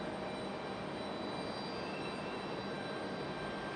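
An Airbus A220-300 airliner passes at Raleigh-Durham airport in stormy weather, its jet engines making a constant broad roar with a faint high whine running through it.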